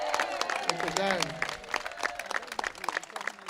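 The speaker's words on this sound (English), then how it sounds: "I want to give them a round of applause." A crowd at an outdoor community awards event applauds the second-place Crown Heights Keepers block group, with scattered clapping mixed with cheering voices and people talking over it.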